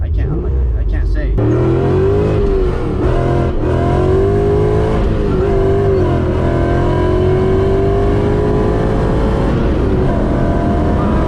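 A supercharged 1994 BMW M8 E31 with a swapped M5 V8 and loud exhaust starts up and drones steadily, the engine note rising and falling with throttle as people talk over it.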